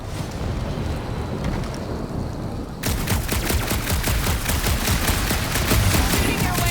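Gunfire in the Guardians of the Galaxy video game, starting abruptly partway through as a dense, rapid burst of shots that continues steadily and loud over a rumbling background.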